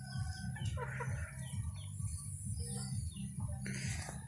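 Chickens cluck close by on a rural farm in the province. Steady, low clucking carries on throughout, with scattered bird chirps and no talking.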